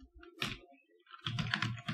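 Code is typed on a computer keyboard, quiet close clicks in two short bursts with a pause between them.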